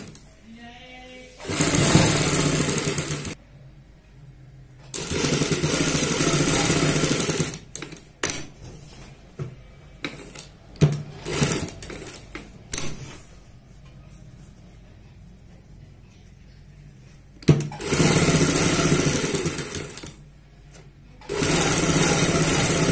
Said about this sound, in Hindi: यहाँ पे इस तरीके से सिलाई लगा लेंगे